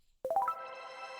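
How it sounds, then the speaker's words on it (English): A bright, shimmering tone rises in quick stepped pitch jumps, then rings out as a sustained, glassy reverb tail. "It's very, very bright, and it shifts the pitch of the reverb"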